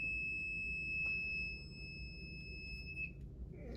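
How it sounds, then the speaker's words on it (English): An electrical voltage tester sounds a steady, high-pitched beep while held to a hot outlet during a light-switch replacement; the tone holds for about three seconds, then cuts off, over a quiet room. "You can hear the tester going off."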